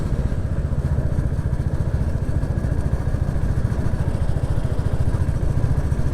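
A Royal Enfield Classic 350 single-cylinder motorcycle on the move, its engine thumping in a steady, fast, even beat, loud and close with a constant rumble and no talk throughout.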